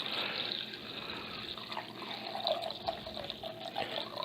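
Apple cider vinegar pours into a measuring container in a soft, steady trickle, faint and close, with no talking over it.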